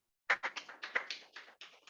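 An audience at a health talk in Bilaspur claps in a short, uneven burst of sharp slaps lasting about a second and a half, fairly close but modest in volume, with no talking over it.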